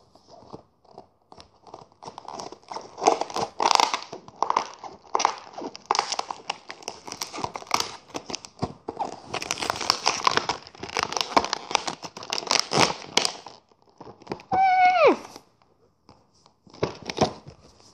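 Scissors snip and crunch through gift packaging in a run of sharp, irregular cuts with crinkling plastic, close and fairly loud, with brief pauses between bursts.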